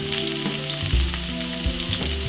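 White onion fries in olive oil in a frying pan, giving a bright, continuous sizzle and crackle with faint stirring clatter, close and steady throughout.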